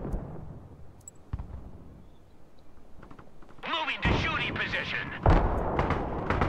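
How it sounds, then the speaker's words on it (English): Artillery fire in the Broken Arrow strategy game: distant thuds, then rolling bursts of shelling and a heavy impact crash, heard beneath a player's voice. "I'm gonna drop artillery here."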